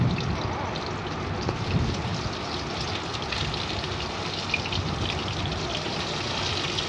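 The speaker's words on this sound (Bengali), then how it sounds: "এখন আমি এই গরম সরিষার তেলের মধ্যে মাছের লেজগুলো ভেজে নেব" Hilsa fish tails fry in hot mustard oil with a dense, steady sizzle and crackle, close and continuous, with no voices over it.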